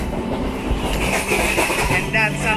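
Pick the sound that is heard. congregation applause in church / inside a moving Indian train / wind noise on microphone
inside a moving Indian train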